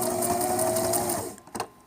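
A sewing machine back stitches pieces of fabric, its needle running in a steady fast whir that stops, followed by a couple of brief mechanical clicks.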